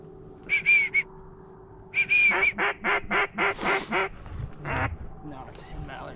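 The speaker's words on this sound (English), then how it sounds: "No, it's a hen mallard, actually." Hen mallard duck quacking close by in a burst of rapid rhythmic quacks, preceded by short whistle calls, in an open Wyoming hunting setting.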